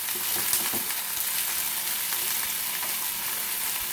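Steaks fry in olive oil in a pan, giving a loud, close, steady sizzle with crackling pops and no voices.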